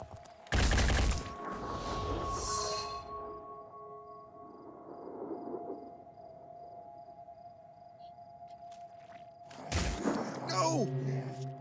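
Enemy gunfire in Phoenix Point, with a loud close burst of shots at the start and another near the end, separated by game ambience and a sustained tonal drone.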